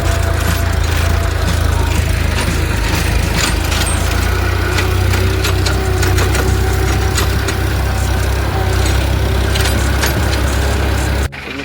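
A tractor engine runs steadily and loud throughout on a farm during wheat sowing work, a close, continuous low rumble with no breaks until a slight drop at the very end.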